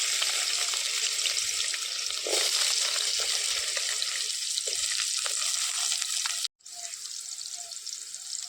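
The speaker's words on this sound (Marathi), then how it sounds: "फोडणीसाठी तेल टाकूया" Oil sizzles in a pan for tempering a curry of beans and potatoes, a steady close crackling hiss with a brief dropout near the end before the frying resumes.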